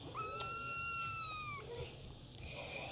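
A cat lets out a single drawn-out meow, close and clear, lasting over a second before fading into quiet room noise.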